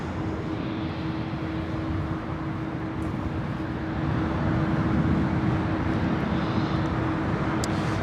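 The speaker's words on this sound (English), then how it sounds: "United Airlines Flight 389, this flight heading to Tokyo Haneda, 787-10 to Dreamliner" A United Airlines Boeing 787-10 Dreamliner jet airliner at Los Angeles airport gives a loud, steady broadband roar with a constant hum, swelling slightly halfway through as it passes near.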